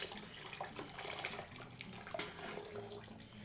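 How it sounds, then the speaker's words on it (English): Turkey stock is poured back through a strainer, a soft continuous trickle and splash of liquid with faint spattering, quiet and close, no talking. "So we're just going to pass this stock back through that."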